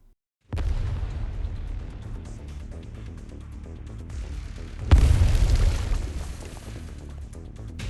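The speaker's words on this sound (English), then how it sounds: "Was that an explosion downstairs?" A deep, booming explosion goes off downstairs in the video game Arknights, first as a sudden heavy rumble that lingers, then a second louder blast with a bright crackling burst, all set against continuous low background noise.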